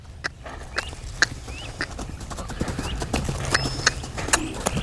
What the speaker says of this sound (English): Now he's playing, he's wiggling his head, he's whinnying.